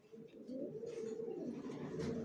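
Several racer pigeons kept in a cage coo steadily, their soft, guttural, warbling calls overlapping nearby.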